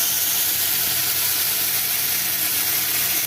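Ground paste hitting hot oil already holding lentils, chillies and peanuts, for coriander rice, gives a steady close hiss and sizzle that runs through unbroken at even loudness with no talk.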